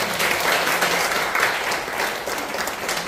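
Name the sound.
audience applause after lecture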